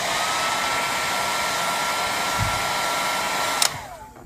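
A heat gun or hair dryer blows steadily and loudly on a Samsung Galaxy S5 screen to soften its adhesive, a continuous airy roar that ends with a click and a small clatter near the close.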